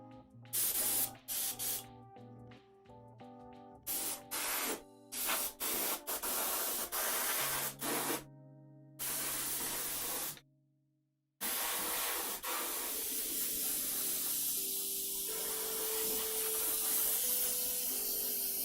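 Airbrush spraying paint onto a cosplay armor corset, short repeated hissing bursts with brief gaps between them, then a longer continuous spray, close and clear, with no talking.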